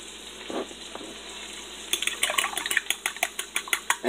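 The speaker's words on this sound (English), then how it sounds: "Yeah, I'm sauteing my mushrooms." Mushrooms sautéing in a pan give a soft steady sizzle, then a fast run of sharp metal utensil taps and scrapes against the pan, close and without talk.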